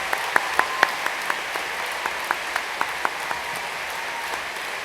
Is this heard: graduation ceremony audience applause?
yes